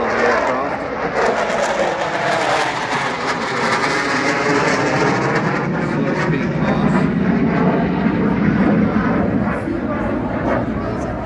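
A fixed-wing aircraft flies at a 2023 airshow in Ayrshire, Scotland, its engine roar loud and continuous, shifting in pitch as it passes, under ongoing commentary.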